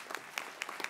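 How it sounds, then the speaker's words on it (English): Audience at a consultative platform launch event giving a short burst of applause, a few distinct close claps in a brief, sparse patter. "And then we can have the applause for us."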